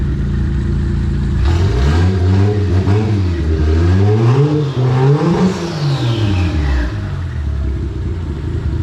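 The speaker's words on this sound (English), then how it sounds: "Try not to rev it too hard." A Toyota Aristo JZS147 engine idles loudly nearby, then revs repeatedly, rising and falling in pitch through several pulls before dropping back to a steady idle.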